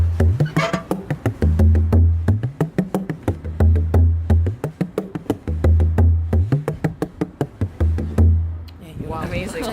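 A 13-inch bodhran beaten in a brisk, continuous rhythm while the left hand presses firmly against the skin, producing tighter, rapid drum strokes close by, with a brief bit of speech at the end.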